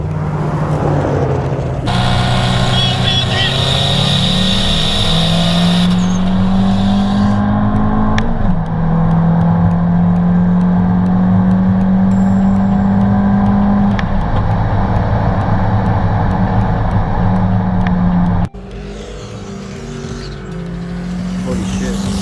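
Two modified cars with full bolt-ons, an Evo and a GTI, race in South Florida, heard from on board as a loud, sustained engine roar that climbs in pitch through the gears, drops at each shift, then falls off near the end.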